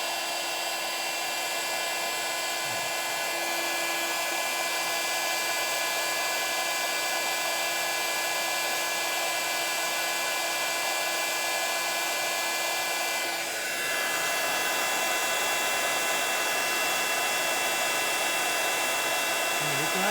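Heat tool blowing hot air to melt embossing powder, a loud, steady whirring drone held for about twenty seconds, with a small shift in pitch partway through.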